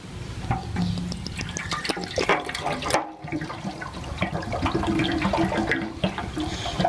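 Apple cider vinegar poured into a motorbike fuel tank, a steady loud gush of liquid glugging and splashing into the hollow metal tank, with a brief break partway through, no voices.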